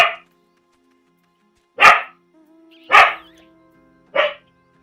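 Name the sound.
dog barking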